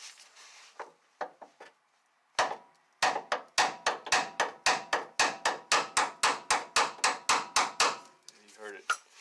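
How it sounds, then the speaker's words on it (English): Hammer knocking the side of a Dodge Ram pitman arm: a few scattered metal taps, then a steady run of about twenty sharp, evenly spaced strikes close up, ending in a brief rattle. "Alright, let's take a little hammer here."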